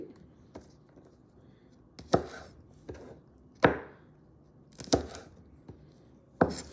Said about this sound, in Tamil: அதோடு சேர்த்து ஒரு 4 பச்சை மிளகாய் வெட்டுங்கோ